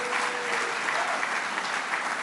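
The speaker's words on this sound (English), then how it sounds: "Brittany Erden and Lindsay Zarniak, please give a round of applause for their efforts tonight." Audience applause at the Eclipse Awards ceremony in West Palm Beach, a dense, steady wash of clapping from a large crowd, continuous and fairly loud throughout.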